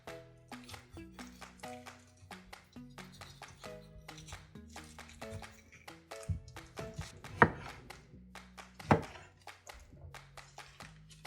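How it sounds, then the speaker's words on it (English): A knife chops tomatoes into eight pieces on a cutting board, a quick run of crisp, close, regular thunks, with a couple of louder knocks near the end and no talking. "So we start by cutting each tomato into 8 pieces to make it easier for the mixer."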